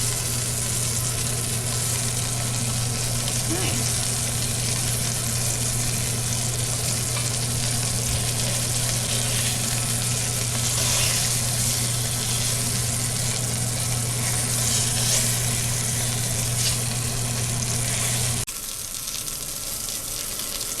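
Beef searing in a hot pan gives a loud, steady sizzle that crackles and pops throughout and fades at the end, with a brief spoken remark.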